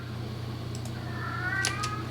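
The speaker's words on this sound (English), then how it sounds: "sounds like my familiar. My cat has awakened." A house cat meows once, close and clear, a rising drawn-out mew rising over a low steady hum in an otherwise quiet room.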